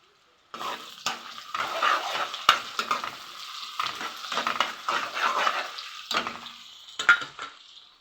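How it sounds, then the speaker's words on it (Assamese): Food fries in a pan and is stirred, with scraping utensil strokes against the pan over a constant sizzle, close and fairly loud, in irregular bursts and without speech. "অলপ লৰাই দিম।"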